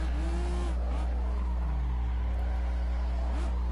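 A race car in Forza, a console racing game, slides and skids with tire squeal over a steady, loud engine drone, with brief squeals rising and fading as the car drifts through a corner.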